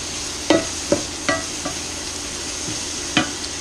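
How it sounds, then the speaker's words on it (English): Onions and garlic sauté in a pot with a steady sizzle underneath, while a spoon stirs and scrapes in a few distinct, sharp clacks spaced out over the frying. "Now we're going to finish sauteing these onions and garlic"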